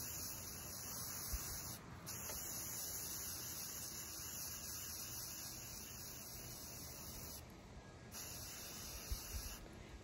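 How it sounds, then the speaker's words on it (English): Aerosol spray can of red paint coating cut hydrangea blooms held by the stem, a continuous close hiss with brief pauses between bursts, steady and fairly loud with no talking. "You can spray them as heavy or as light as you want."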